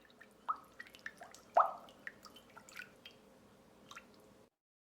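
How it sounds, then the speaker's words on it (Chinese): Warm water of about 35 degrees, yeast and cooking oil being stirred in a bowl, giving soft, irregular wet squishes and drips, with a couple of louder sloshes near the start, close up and with no talk. "把它们搅拌混合"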